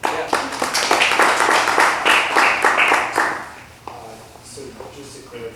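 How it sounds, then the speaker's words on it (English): Applause from an audience at an Oklahoma City entrepreneurship talk, a dense burst of clapping lasting about three seconds that then fades as voices speak. "You give a round of applause."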